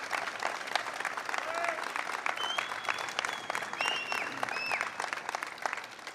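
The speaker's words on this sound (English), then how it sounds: "Let's give him another round of applause." A crowd at a legislation signing with Governor Cuomo breaks into another round of applause, steady dense clapping with faint whistles and cheers rising over it, close and full throughout.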